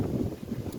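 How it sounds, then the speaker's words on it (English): Low rumbling wind buffets the microphone continuously, a dense muffled roar with irregular gusts and no clear voice. "it's super windy."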